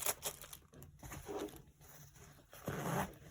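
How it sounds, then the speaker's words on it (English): The zipper on a compartment of a survival satchel bag rasps open in several short, close pulls separated by brief pauses, quiet and crisp with faint handling rustle. "Zipper area, a compartment right here."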